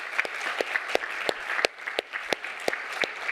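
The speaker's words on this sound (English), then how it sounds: "Give him a round of applause." Sparse audience clapping at a university GradSlam finals event for the organizer, individual sharp claps from a small crowd scattered in an uneven rhythm, fairly close and moderately loud.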